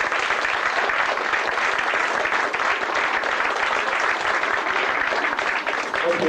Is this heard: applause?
yes